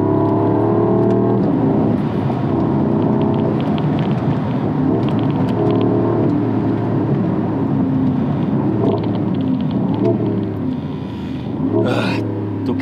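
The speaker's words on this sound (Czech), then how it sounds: "To podřazení je neskutečné." A Mercedes-AMG SL 55 convertible engine rumbles and revs while driving, its deep, steady drone rising and falling through downshifts, heard loud and close from inside the car with no talking.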